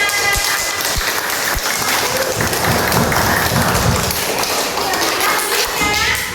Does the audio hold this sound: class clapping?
yes